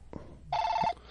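A phone rings once with a short, bright electronic trill close by, over quiet background noise.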